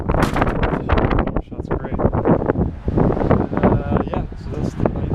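Gusty wind buffeting the microphone outdoors beside a 1960 Kenworth semi truck, a loud rumbling roar in uneven surges, with someone talking over it.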